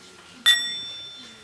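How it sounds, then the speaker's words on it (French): A single meditation bell struck once during a children's chocolate meditation ceremony, a bright ringing tone with a sharp attack that sustains and slowly fades over about a second in a quiet room. "Éveiller la cloche."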